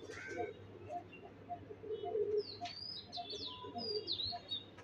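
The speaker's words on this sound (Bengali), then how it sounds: "মাশাআল্লাহ একটা নর কবুতর।" A pair of pigeons gives soft repeated calls and coos nearby, evenly spaced through the stretch, with brief higher chirps from other birds and a low steady background hum.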